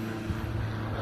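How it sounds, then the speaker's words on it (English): Airplane on the flight path near Bournemouth International Airport passing overhead, a steady low droning engine rumble with a sustained tonal hum, loud and continuous throughout with no talk. "Sorry about the plane overhead."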